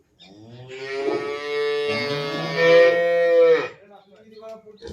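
A buffalo gives a long, loud, close moo lasting several seconds, wavering in pitch, at the Rupal Palli village festival, with only faint background noise around it.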